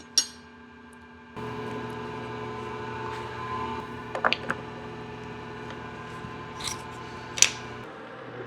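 A steady machine hum with harmonic tones comes from a metal lathe or mill as it chamfers the edges of a spur gear machined from a rough casting. A few short scraping cuts and clicks rise over the hum.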